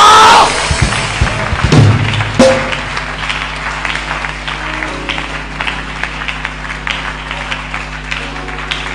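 Scattered clapping and thumps from a church congregation during a Tuesday prophetic service, starting with a loud burst and then thinning into irregular, moderately close claps.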